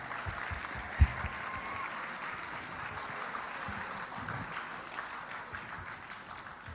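An audience at a school fashion runway event claps steadily for a teacher being introduced, continuous moderate applause with one sharp thump near the start.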